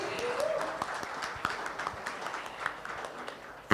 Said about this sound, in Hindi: Please जोरदार तालियों से इनका स्वागत करें